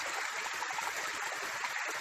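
A stream of water flows steadily upstream from the spot where a household collects its water supply, giving a constant broadband rush and babble that lasts the whole stretch with no talk over it.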